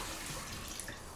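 Hot water runs from a kitchen tap in a steady, close rush with no pauses and no talk.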